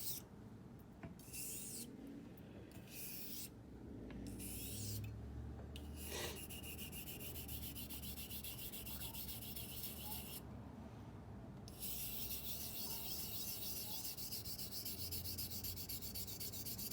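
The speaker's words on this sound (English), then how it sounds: "I'm just going to work up a little slurry here and just finish setting this bevel" A straight razor honed on a whetstone while working up slurry, giving a steady close rubbing, rasping scrape that continues without pause, with no talking.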